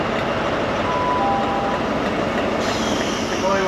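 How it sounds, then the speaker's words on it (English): An ex-Great Western Railway HST high-speed train in ScotRail service to Aberdeen rolls along with a steady, close wheel-and-rail rumble, marked by a few thin squealing tones. "this is actually an ex-Great Western Railway GWR, what they call it HST, the high-speed train"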